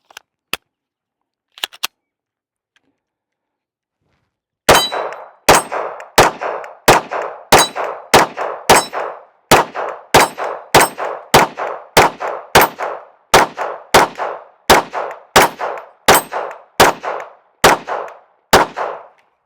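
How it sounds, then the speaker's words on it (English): Rapid, evenly spaced pistol shots from a Canik TTI Combat firing PMC ammunition at a range, about twenty sharp, loud reports in a steady rhythm after a few faint handling clicks, with no talking. "We're just gonna do the first shots, see how it performs, and go from there."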